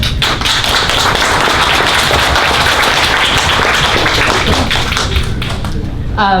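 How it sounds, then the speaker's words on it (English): Audience applause welcoming a speaker at a book signing event: dense, steady clapping from a room full of people, loud and continuous throughout, with faint voices mixed in. "Let's give a round of applause and welcome her."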